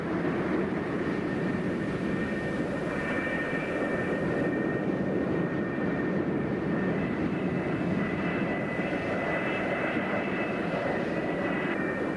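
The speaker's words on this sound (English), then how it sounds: "The flight deck director meticulously guides each aircraft into position over its assigned catapult" Military jet engine idling and whining on an aircraft carrier flight deck, a steady loud roar with high tonal whine holding throughout, no voices heard.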